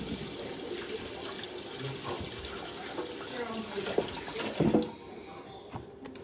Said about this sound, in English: you're going to give your hands a wash